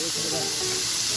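Apple slices sizzle in a hot pan, a steady, bright hiss of frying filling the short moment without pause.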